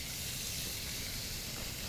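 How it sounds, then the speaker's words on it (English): Steak sizzling in a hot pan, a steady, dense hiss that carries evenly from start to finish with no voices over it. "we'll get the steak in. That's a nice sizzle, right?"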